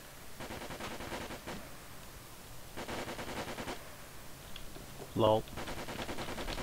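Rapid gunfire bursts in the military shooter Project Reality, during urban combat in Muttrah City. Three separate volleys of automatic fire sound at a moderate distance, and a voice speaks briefly between them.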